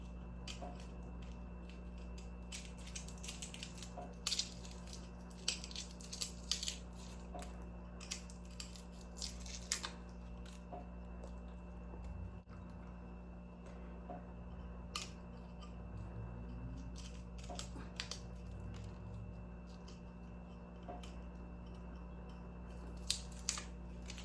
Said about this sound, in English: to cut the garlic and remove the skin when it's dry